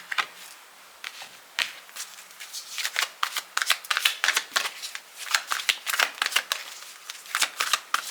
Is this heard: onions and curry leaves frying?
no